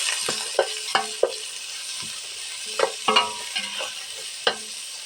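Garlic, onion and corned beef sizzling in oil in a pan for spaghetti sauce, with a spoon stirring in irregular scrapes and knocks over a constant frying hiss.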